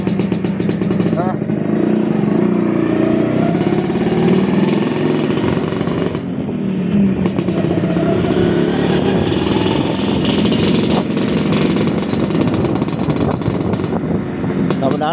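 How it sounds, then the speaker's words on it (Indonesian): A motorcycle engine freshly rebuilt with a new crankshaft and bearing runs steadily and loudly close by, a rough continuous idle with small revs, while someone talks over it. "Ini mesin kolteran baru guys. Ini kolteran baru, bearing baru."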